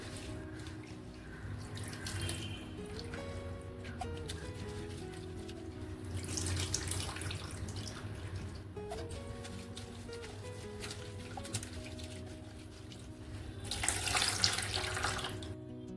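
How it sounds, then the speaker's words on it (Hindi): Water runs steadily from a tap into a sink, splashing and sloshing as moringa leaves are rinsed, with brief louder surges near the end. "अब मैं थोड़ा थोड़ा करके इस तरह से धोल धोल के निकालूंगी"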